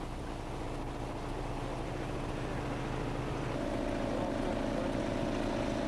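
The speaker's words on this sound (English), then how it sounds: "The next step is to begin pumping the sealant through the system." A pump pushing sealant through a street repair system, a constant loud mechanical drone with a steady rumble that thickens slightly partway through, no voices.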